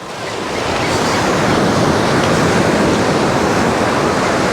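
Ocean surf washing onto the beach at Canasvieras, Florianópolis, with the water rising in early May; a steady, loud, continuous roar of breaking waves with some wind noise, no voices.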